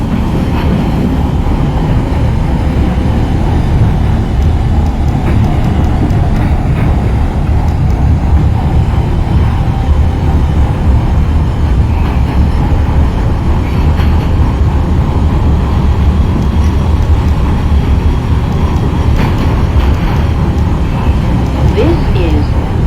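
An NYC Subway R train runs from Bay Ridge 95 St toward Forest Hills 71 Av in the OpenBVE simulator, with a constant heavy rumble and rail clatter and a voice speaking at times over it.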